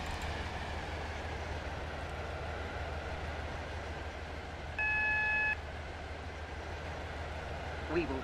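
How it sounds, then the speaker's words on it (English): An express HST train in the Stepford County Railway game pulls into Stepford Central station, a steady low rumble of the moving train with a short electronic beep tone partway through, while a person talks over it. "We're pulling into Stepford Central Victoria"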